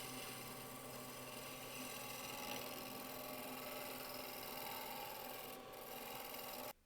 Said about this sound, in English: Go back to shear scraping, refine the line.